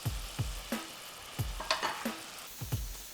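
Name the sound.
stirring cornstarch slurry into orange chicken sauce in pan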